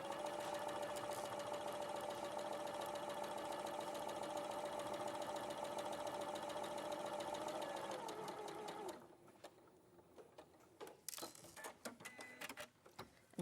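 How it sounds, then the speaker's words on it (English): A sewing machine runs steadily, stitching fabric with a loud, even mechanical whirr for about nine seconds. It then stops, leaving a few quieter clicks and handling noises. "So I'm going to take this to the machine."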